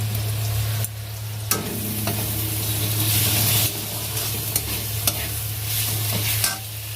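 Tomatoes sizzle with spice paste in a hot pan, a continuous loud frying hiss broken by the clatter of stirring, with a low steady hum underneath and no talking.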